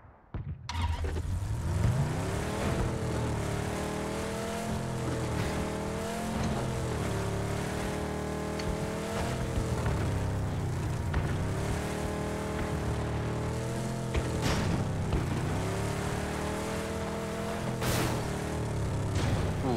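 A car engine in a video game drones loud and continuous, its pitch rising and falling with repeated revving and gear shifts, no voices.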